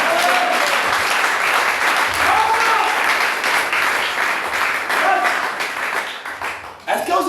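A church congregation breaks into sustained applause, a dense wash of clapping and cheering voices filling the hall for several seconds before fading, with speech mixed in.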